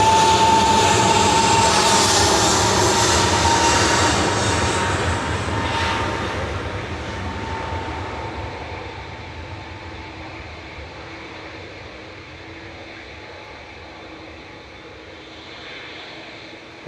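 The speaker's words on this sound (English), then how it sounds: "GUZHP departing now to Gran Canaria with flight 2017" An airliner departs Manchester Airport for Gran Canaria, a loud broad jet roar at the start that slowly fades as it climbs away, ending as a distant, softer rumble.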